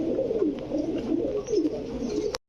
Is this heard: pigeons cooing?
yes